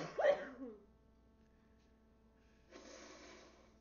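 A person coughs in a short, harsh burst at the start, caused by a throat irritant during a coughing jag. Quiet follows, then a steadier, softer rush of noise near the end.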